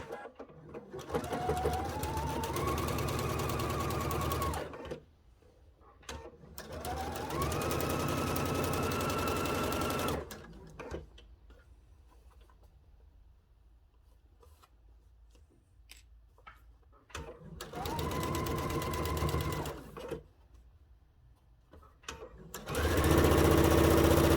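A sewing machine stitches a cathedral window quilt panel in three long, loud runs of steady whirring, each several seconds, separated by quieter pauses, with another burst starting at the end.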